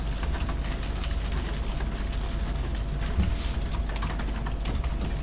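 Someone types on a computer keyboard while standing and leaning forward, producing a steady stream of close, irregular key clicks over a constant low background hum.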